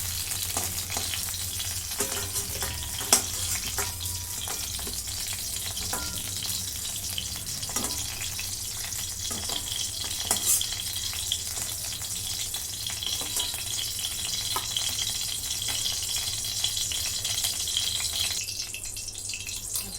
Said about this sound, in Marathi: पाच मिनिटं दोन्ही साईडची काढली मी परतून घेते